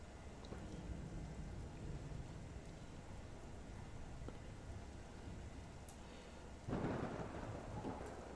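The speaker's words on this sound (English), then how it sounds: "Oh, it's raining." Steady rain hisses throughout with low rumbling thunder underneath in the video game Monsters & Memories, then a sharper, louder thunderclap breaks in near the end.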